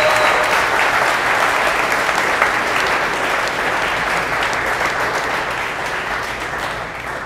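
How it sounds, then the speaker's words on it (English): An audience at a talk gives sustained, dense applause that stays loud and even throughout, slowly easing off toward the end, with no talking over it. "Doug and Geoff, round of applause."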